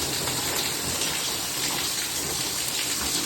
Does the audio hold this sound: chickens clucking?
no